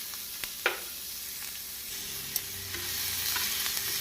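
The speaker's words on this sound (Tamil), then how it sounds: "எண்ணெய் காயவும் நாம் நறுக்கிய வெங்காயத்தை போட்டுக்கொள்ளலாம்." Chopped onions frying in hot oil on a dosa pan for a masala egg omelette, a soft steady sizzle with a few light clicks and scrapes of stirring, fairly quiet with no talk.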